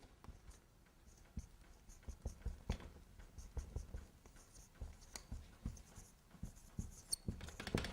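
A pen scratches across paper in quick, irregular strokes and taps, quiet and close, with no voices.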